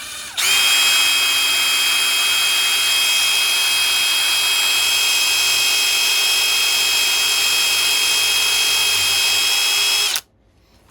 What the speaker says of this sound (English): I'll do that by hand with a high-speed drill